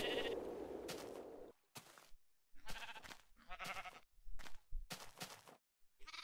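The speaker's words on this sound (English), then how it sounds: "Because the blue sheep got out." Sheep bleating in the video game Minecraft (Tekkit modpack), several separate nasal bleats spread in a loose irregular rhythm, fairly close and clear, with short silent gaps between calls.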